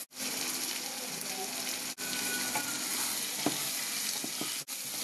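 Chicken pieces sizzle steadily while being sautéed in a pot for bhuna khichuri, a close, dense frying hiss that runs continuously with a few brief breaks and faint scraping of a spoon.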